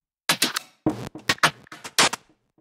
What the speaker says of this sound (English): But when arranged together and puzzled in a nice way, they sound like interesting percussions.